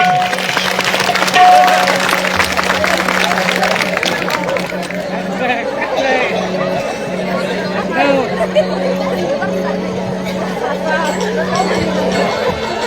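An audience at a comic bharud folk performance claps and cheers in a burst of applause, with crowd chatter and a voice talking over it as the clapping fades.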